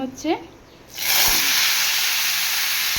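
Diced potato and squash hitting hot oil in a pan for a hill-style curry, bursting into a loud, steady sizzle that holds close and continuous after a brief quiet start.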